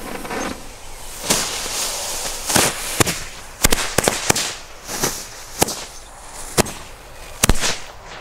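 Funke jumping firecracker frogs going off outdoors on the ground, about ten sharp cracking bangs at irregular intervals over a crackling, hissing background.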